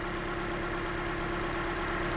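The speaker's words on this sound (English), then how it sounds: "I can definitely feel that engine sort of shaking a bit." A Toyota Corolla engine idles roughly with a slight shake, a steady, close, continuous low hum with a faint uneven pulsing and no other sounds over it.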